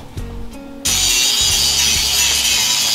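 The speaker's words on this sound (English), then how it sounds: "So we'll get a flapper, try to get in there, slice the weld now." A flap disc grinder cuts out a weld on metal: after a brief low hum and a couple of knocks, the grinder bites in and holds a loud, harsh, continuous abrasive roar to the end.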